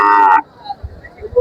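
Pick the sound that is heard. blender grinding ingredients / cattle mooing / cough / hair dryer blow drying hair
cattle mooing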